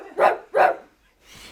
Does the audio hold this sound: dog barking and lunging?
yes